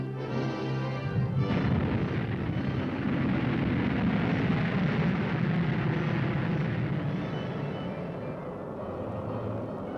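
A Corporal missile fires at the Oro Grande range with a sudden roaring blast that settles into a sustained, heavy rumbling roar, loud and continuous before easing off at the end.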